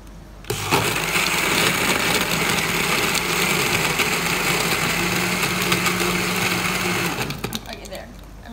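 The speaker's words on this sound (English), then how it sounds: "I'm going to turn the blender back on." A blender whirs steadily, loud and close, while blending falsa berries and mint into a drink, starting abruptly and running for about seven seconds before cutting off.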